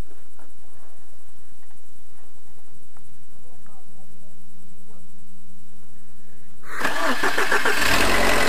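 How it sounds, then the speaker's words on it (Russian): A Chevrolet Niva engine starts just after its spark plugs were replaced. Low background noise and a faint hum give way to a loud, close cranking and catching burst that runs into a harsh roar. "Просто заменили свечи, хотим просто завести и все."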